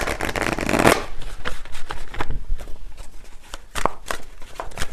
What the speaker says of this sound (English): let me just get a final card here